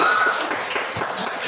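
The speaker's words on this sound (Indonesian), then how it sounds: "Tepuk tangan dulu." A class claps hands in applause, a dense, steady patter of many palms filling the short stretch at an even level with no voices.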